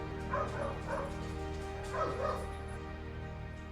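A few dogs bark and yip in short bursts, a couple of clustered barks near the start and another pair midway, heard fairly close indoors over a steady background hum.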